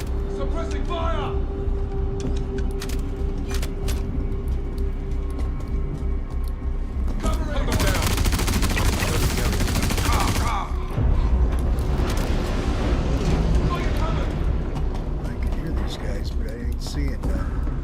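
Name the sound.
suppressing gunfire in video game Star Citizen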